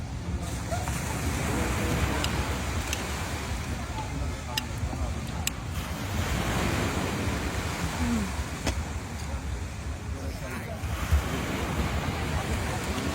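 Waves breaking at a seaside seafood restaurant during dinner, a steady wash of surf with wind noise on the microphone, and people talking nearby throughout.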